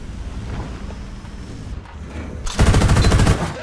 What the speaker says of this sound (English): That cannon sound is freaking awesome!